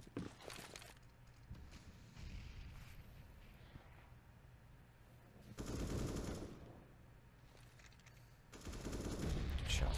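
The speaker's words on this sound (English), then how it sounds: "Shots out from Flamey" Gunfire in the video game CS:GO, with rapid bursts of automatic fire and scattered shots across the round, heaviest in a couple of loud clusters, and footsteps and background game noise between them.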